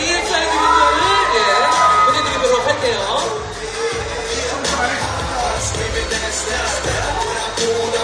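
Fans cheer and clap in a noisy, continuous wave at a Lego Batman Movie carpet event featuring the K-pop group EXID, with an announcer's voice over the crowd.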